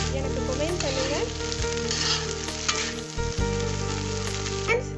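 Egg frying in a pan with chicken, a steady close sizzle of hot oil running throughout with light stirring scrapes, no voices.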